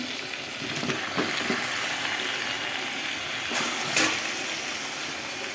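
Fish frying in a sizzling pan of oil as it is added and stirred: a steady loud hiss of sizzling throughout, with a few scraping stirs and a sharper splash of sizzle near the end.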